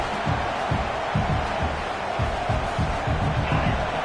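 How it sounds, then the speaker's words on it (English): Football stadium crowd roaring at full throat during a game, a dense continuous wall of noise with rhythmic low pulses, loud and steady throughout. "This crowd, full throat, splitting the eardrums and letting them know it's going to be a long day"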